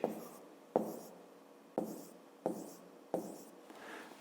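Pen or pencil writing numbers by hand during a fifth-grade maths exercise, a series of about six distinct scratchy strokes and taps at a steady pace, close and fairly quiet.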